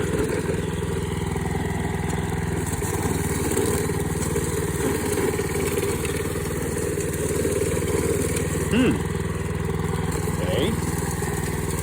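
A lawnmower fitted with a cable in place of its blade runs steadily and loudly at a near, rough drone, with a few brief clanks of debris; voices speak faintly beneath the engine.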